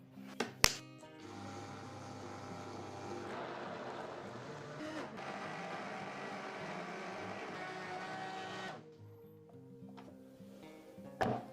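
A food processor whirs steadily for about six seconds, blending flourless brownie batter with brown sugar. Clunks of the lid or bowl come before and after the motor run, which is steady and fairly quiet.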